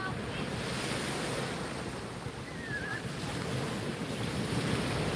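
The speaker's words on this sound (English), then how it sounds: "I just heard the ocean" Ocean waves wash continuously onto a beach, a broad, steady rushing surf mixed with gusty wind buffeting the microphone, with no voices.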